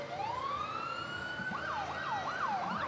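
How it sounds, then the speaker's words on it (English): A vintage police car siren wails at the Winnipeg Santa Claus Parade, rising in one long sweep and then whooping in quick repeated cycles over steady crowd and street noise. "Traditional vintage police cars."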